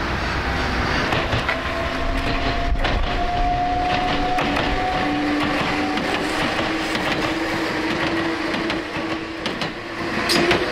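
An Enoden electric train rolls past nearby with a loud, continuous rumble and rattle, and a faint motor whine rises and shifts over the steady rolling noise.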